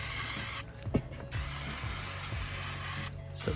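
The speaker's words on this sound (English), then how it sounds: "Let's spray this stuff on." Klean Strip aircraft paint remover hisses from a spray can in several bursts close by, steady spraying broken by a few short pauses.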